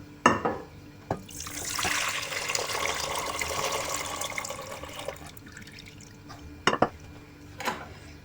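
Pickling brine from a jar of fermented cucumbers with mustard pours steadily into a sink for several seconds, followed by a few clinks and drips of glass as the pouring stops.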